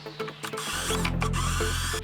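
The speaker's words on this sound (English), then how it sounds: "I'm actually just going to drill some pocket holes and attach it from the bottom" A power drill whirs steadily at close range drilling pocket holes in wood, after a few short mechanical clicks, running continuously for about two seconds.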